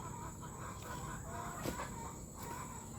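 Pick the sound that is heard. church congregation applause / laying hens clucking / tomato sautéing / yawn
laying hens clucking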